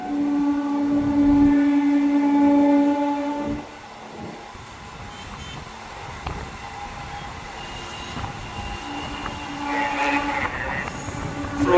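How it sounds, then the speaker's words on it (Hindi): A train rolls slowly through Firozabad station on the main line, a steady rumble of wheels and carriages with a loud sustained horn blast near the start, then continuing rhythmic clatter and faint squeals. "भाई फिरोजाबाद स्टेशन को स्किप कर रहे हैं और ट्रेन अपनी काफ़ी स्लो हो चुकी है।"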